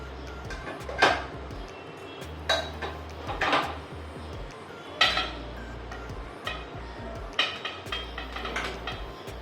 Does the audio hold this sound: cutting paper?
no